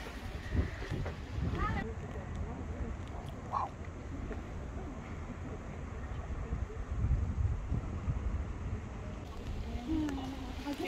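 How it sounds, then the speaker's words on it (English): Gusty wind buffets the microphone in uneven bursts outdoors in Portugal, with faint distant voices and rustling underneath. "It's windy out here."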